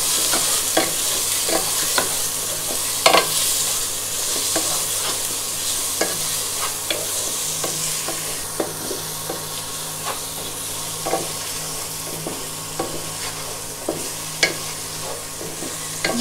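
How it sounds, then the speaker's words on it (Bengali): Ground spices with salt and chili powder sautéing in a pan for Bengali muri ghonto, a continuous close sizzle with regular spoon scrapes and taps throughout, without speech. "এখন খুব ভালো করে কষিয়ে নিব"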